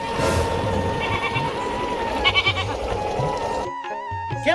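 Several goats bleat in wavering cries over a steady background hum, with one clear bleat near the end after a brief quiet gap.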